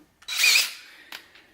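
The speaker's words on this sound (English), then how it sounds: "I'm going to be using the 2-inch hole saw." A power drill fitted with a 2-inch hole saw cuts into a wall in one loud, close burst of about a third of a second, then trails off into a fainter grinding and a brief second touch.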